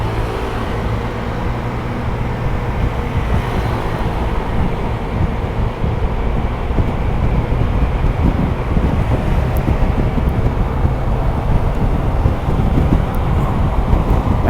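A 2023 Honda Forza 125 scooter rides through a tunnel, its engine drone blending with a heavy, boomy roar of wind and echoing road noise, loud and constant throughout.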